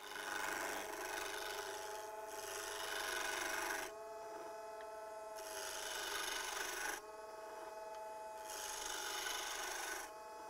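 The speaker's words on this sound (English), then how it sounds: "We're going to turn this square piece of wood to round using this particular chisel called a" Square wood blank turned round on a lathe with a spindle roughing gouge during a woodturning masterclass: a loud, continuous rasping scrape that comes in long bursts, swelling and easing back as the gouge passes along the spinning wood.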